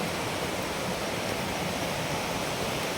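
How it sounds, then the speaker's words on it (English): A river flows near a long waterfall in Embu, Kenya, giving a steady, even hiss of rushing water throughout with no other sounds. "There's a river flowing there."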